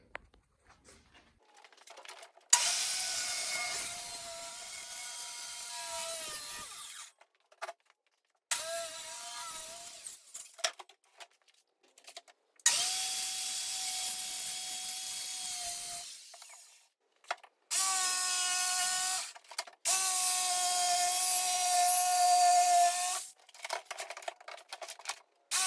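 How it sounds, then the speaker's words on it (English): A power saw set to a 25-degree angle cuts a wooden parcel shelf panel in several separate passes, each a loud, steady whining rip with pauses of quiet between cuts. "So we've got our saw set to 25 degrees, which should mimic that. We'll go ahead and cut this."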